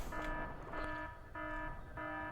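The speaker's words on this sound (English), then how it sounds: "this alarm is going off" An in-game alarm in Factorio sounds as a quiet electronic buzzing tone, pulsing in four short bursts with brief gaps between them.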